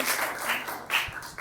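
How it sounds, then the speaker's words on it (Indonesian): A classroom audience applauds after a group presentation on a fantasy story, a short, dense burst of clapping close by that carries on without pause. "beri tepuk tangan."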